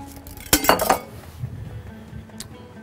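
Empty dishes and containers clink as they are cleared from a kitchen counter after preparing chicken wings, a short cluster of close bright knocks and rattles followed by quieter scattered taps.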